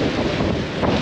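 Steady wind buffeting the microphone on a clean white-sand Caribbean beach at Eagle Beach, Aruba, a continuous broadband rush with faint surf underneath and no talking.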